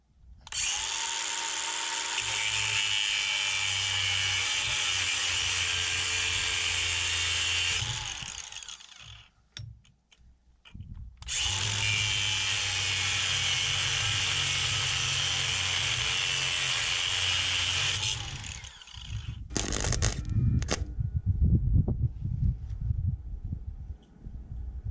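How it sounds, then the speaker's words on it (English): MIG welding with the wire speed set too low while building a tiny house's main beam, two long steady crackling buzzes separated by a brief gap, followed by scattered clanks and handling noises. "You can probably hear I had the wire speed set a little bit too low when I was doing this first bit of welding"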